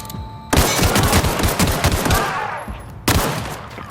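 Rapid bursts of gunfire from The Outer Worlds video game crackle loudly, a dense volley of shots followed by a brief lull and then a fresh burst of shooting.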